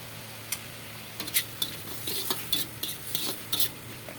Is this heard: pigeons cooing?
no